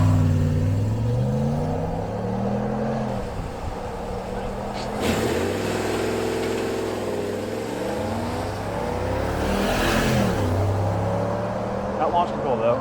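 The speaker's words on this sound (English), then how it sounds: "Old school, 8 cylinders, push rods of freedom. America. All-wheel drive auto and launched." A Ram truck with a pushrod Hemi V8, all-wheel drive and a ZF eight-speed automatic launches hard from a stop, the engine roaring up through several gear changes, loud and close, with brief talk over it.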